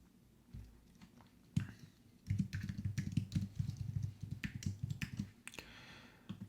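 Fingers tap quickly on a computer keyboard, entering a full name and password in a dense run of close, crisp keystrokes after a few isolated clicks, with no talking.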